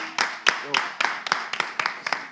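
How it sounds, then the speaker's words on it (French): A small audience at a smartphone prize draw gives a few separate claps, sharp spaced hits close by, while a voice briefly speaks over them. "on va applaudir monsieur Lucie, s'il vous plaît"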